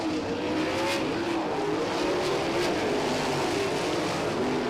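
Sprint cars of the High Limit Sprint Series race at Lincoln Park Speedway, two cars running nose to tail through turns 1 and 2, their engines droning and wavering in pitch as they pass at a steady, loud level.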